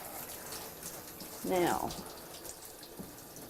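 Tap water runs briefly during a dog bath, a short splashing gush under a spoken word amid the quiet background.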